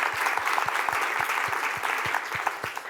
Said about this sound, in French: Je pense qu'on peut applaudir Nicolas.